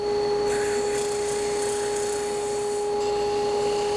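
An 80-grit spindle sands a wooden acoustic guitar bridge, a steady loud rasping whir. Two sustained machine tones run underneath, and the pitch of the grind shifts briefly mid-way.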